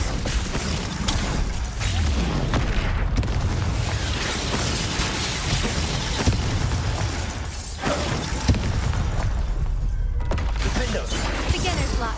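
In Hogwarts Legacy, the Incendio fire spell is cast during a fight with a troll, giving loud, dense bursts, booms and crackling impacts one after another, with some game voices in between.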